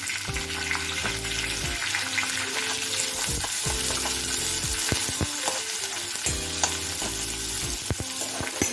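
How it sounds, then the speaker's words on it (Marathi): Onions cooking in oil with stone flower and curry leaves for misal pav give a constant loud sizzle, broken by repeated utensil stirs and scrapes. "एकदम व्यवस्थित शिजून घ्यायचे कांदा तेलामध्ये।"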